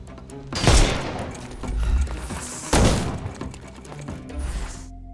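Gunfire in the PC video game Sherlock Holmes: Chapter One, two heavy loud bursts about two seconds apart, each trailing off with thuds and rumble, no talking.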